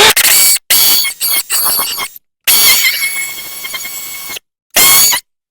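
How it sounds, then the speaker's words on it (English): A power drill fitted with a Tapcon masonry bit grinds loudly into a brick wall up close, running in several harsh bursts with abrupt stops and pauses between them. "I've just got a Tapcon masonry bit right here. Got to get it started."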